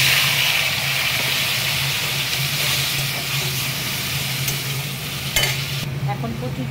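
Nigella seeds and dried chilies crackle in hot oil as a tempering, a steady dense sizzle throughout with a hum underneath and a brief clatter near the end.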